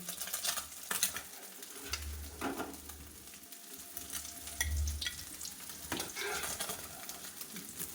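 Fish frying in hot oil in a home kitchen, a steady sizzle with occasional spatters and a few soft utensil knocks, fairly close and continuous with no talking.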